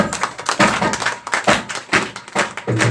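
A church congregation at a Christian healing prayer service breaks into applause to welcome the preacher, a dense, steady clapping of many hands that fills the whole stretch, loud and close.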